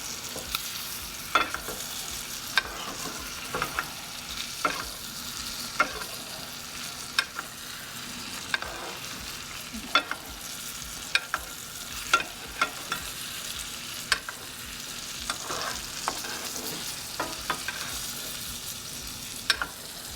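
Butter sizzles and crackles steadily in a pan around a ribeye steak, with regular scraping taps of a metal spoon basting, close up and without talk.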